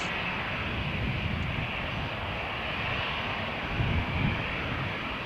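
A jet airliner departing runway 13 at Malaga Airport on a stormy morning, a steady broad engine roar that stays loud throughout, with a low rumbling swell near the end and no talk.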